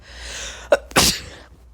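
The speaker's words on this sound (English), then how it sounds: "I have to sneeze." One person's sharp sneeze, preceded by a quick catching inhale, close and loud against a quiet room.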